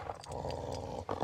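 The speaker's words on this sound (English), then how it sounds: "I'm trying to get the mic close so you can hear her growl." A dog growls low and continuously from very close to the microphone, a rumbling, pulsing snarl lasting about a second with a few small scuffs and breaths around it and no speech.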